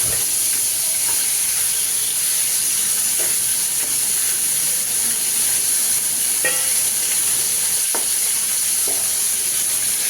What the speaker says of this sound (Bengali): এখন ভেজে নেব।